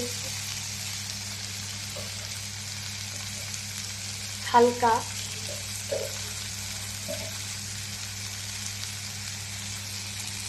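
Tengra fish sizzles steadily in hot oil in a pan for a Bengali chochori, with a couple of brief clinks of stirring partway through and a single softly spoken word.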